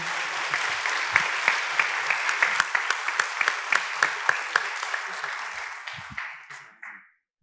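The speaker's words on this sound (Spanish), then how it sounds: "Un aplauso fuerte." Loud applause from a church congregation at a Spanish-language ordination service for pastoral assistants, a dense wash of many hands with sharp individual claps standing out, sustained for several seconds before fading out abruptly.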